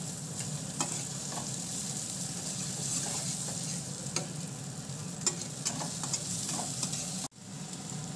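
Chopped onion and tomato fry in a wok for a home-style chicken kosha, giving a steady close sizzle broken by light stirring clicks and scrapes, with a short cut near the end.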